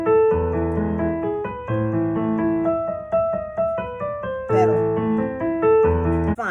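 Piano plays the Für Elise theme by Beethoven with sustain pedal, the familiar alternating melody ringing over left-hand arpeggios, clear and close, with notes blending into a resonant wash as the pedal holds them.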